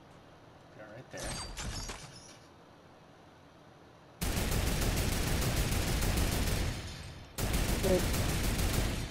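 Gunfire aimed at vehicles in Fortnite: two long, loud bursts of rapid shots near the end, after a quieter stretch with a few faint pops and brief talking.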